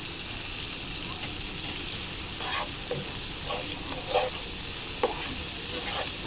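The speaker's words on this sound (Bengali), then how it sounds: "মশলাটাকে আমি ভালো করে কষিয়ে নেব।" Chilli spice masala frying in a pan for chicken roast: a continuous close hiss and sizzle with occasional stirring scrapes and small pops, no talk.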